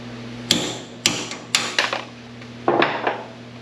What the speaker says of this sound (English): just a couple of taps with a hammer